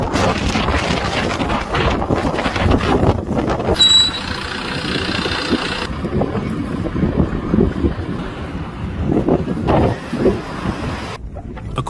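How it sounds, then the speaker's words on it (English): Strong wind gusts in a snowstorm, roaring and buffeting hard against the microphone in uneven surges that rise and fall across the clip, loud and close. "The wind gusts and snow are so intense that in some parts of the footage, nothing is visible except for a white veil."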